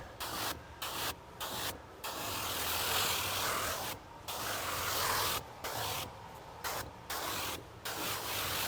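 Bursts of hissing spray from a bottle onto Tesla panoramic roof glass during ceramic window tint installation, several in a row with short gaps between them, close and fairly loud.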